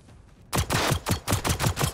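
Shotgun blasts in the co-op shooter Generation Zero, a quiet lead-in then a rapid string of about eight loud, close bursts fired in quick rhythm.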